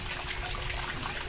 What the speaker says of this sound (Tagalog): nagde-drain na po tayo mga ka-farmers